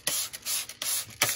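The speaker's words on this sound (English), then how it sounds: "Now I'm going to spray a mixture of water and Clorox" Several short bursts of a spray bottle hiss close by, spraying a bleach and water mixture, one after another with brief pauses between them.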